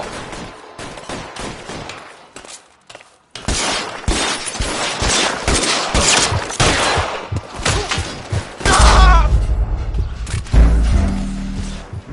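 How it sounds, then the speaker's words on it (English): Bursts of gunfire in an L.A. Noire shootout, loud rapid volleys of shots in dense clusters, pausing briefly before resuming, with heavier thumps and crashes toward the end. "All units, shots fired, ops needs help."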